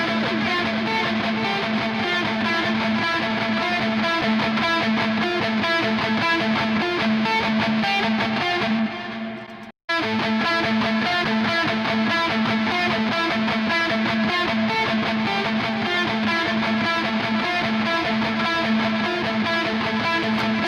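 Dense, heavily distorted electric guitar played through a Toneforge Jeff Loomis amp simulator with an Echo Man delay, a sustained wash of repeating echoes with one brief dropout midway, loud and without voices.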